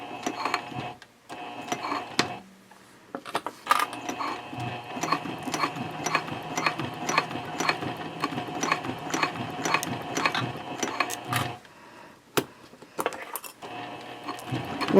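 A sewing machine stitches Cordura fabric for a trifold wallet at a 3.0 stitch length, giving close rapid mechanical clatter in bursts with short pauses between runs.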